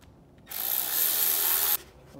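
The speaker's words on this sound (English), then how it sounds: "I'm gonna go ahead and tighten up my filter clamp now." An air filter clamp on a Banks ram air intake for a Ford Super Duty is tightened with a power driver, a single close, bright whirring burst just over a second long between quiet moments.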